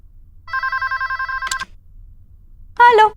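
A telephone gives one long electronic trill of rapid pulsed rings, loud and close against near silence, then stops. A short burst of a voice follows near the end.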